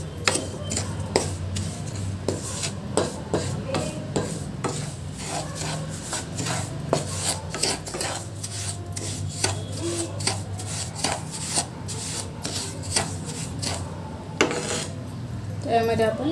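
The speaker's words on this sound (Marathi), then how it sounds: "तुपामध्ये भाजून घेऊया" Semolina roasting in ghee for sheera, stirred with a metal spoon that scrapes and clinks against the pan in a steady, close rhythm over a low background hum.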